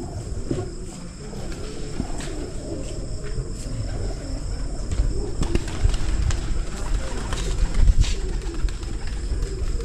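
Pigeons released in a kabootar bazi flying contest, with cooing and bird calls over a busy outdoor rooftop background of distant noises and sharp knocks, fairly close and continuous.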